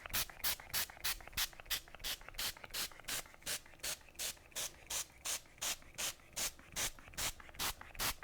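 A rapid series of short, bursting hisses from an aerosol spray can, fired in steady even pulses for several seconds, close and clear with no talking.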